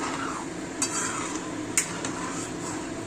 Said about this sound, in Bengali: স্যুপটাকে নাড়বো।